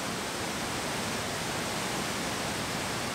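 Datanla Falls in Da Lat, Vietnam roars as a dense, steady hiss of falling water, unbroken and alone, with no voices over it.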